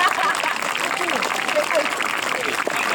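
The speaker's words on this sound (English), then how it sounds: "giving a huge round of applause" A crowd at an outdoor bandstand opening event in Watford applauds the mayor, with steady dense clapping running throughout and voices and cheers mixed in.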